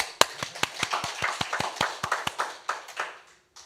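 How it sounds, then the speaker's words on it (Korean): A church congregation at a Sunday service claps in unison: about sixteen crisp, evenly spaced claps in a brisk steady rhythm, clear and close, then stopping abruptly. "박수 한번 치죠."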